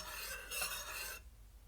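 Milk being stirred into karak chai in a pot, a steady scraping, rasping swirl for about a second before it drops away to quiet.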